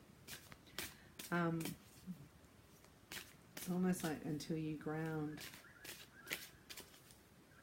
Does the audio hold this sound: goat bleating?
no